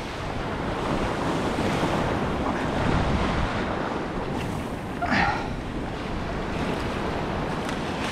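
Ocean surf rolls and breaks continuously on a beach at K'Gari (Fraser Island), a steady wash of waves mixed with gusty wind buffeting the microphone.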